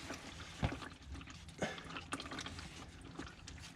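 Water and oil mixture draining from a 1970 Boss 302 engine that sat for 30 years, a faint irregular trickle and drip with a few soft splashes, quiet and close.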